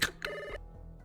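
A telephone rings at 3 a.m. in a Blade Runner role-playing game scene: one short electronic ring, then a longer tone, clear and close with no voices over it.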